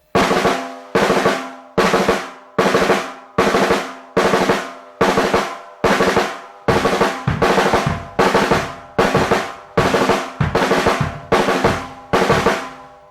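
A snare drum plays quick bursts of rolled 32nd notes in repeating groups, about fifteen evenly timed clusters in a steady 5/16 pattern. Each burst is close and loud and decays briefly before the next, with no talking.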